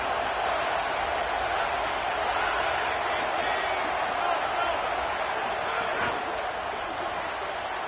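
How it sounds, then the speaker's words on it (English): Stadium crowd noise in an NCAA college football video game: a dense, steady roar of cheering fans with no breaks, loud and continuous throughout. "This crowd knows when to bring it."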